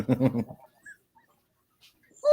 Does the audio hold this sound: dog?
yes